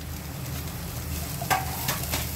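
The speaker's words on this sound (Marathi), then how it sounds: "ह्यामध्ये आता आपण ही भेंडी टाकून घेऊया." Okra tossed into a pan of potatoes frying with spices gives a steady close sizzle, with a couple of brief stirring scrapes partway through.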